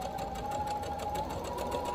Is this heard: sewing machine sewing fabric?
yes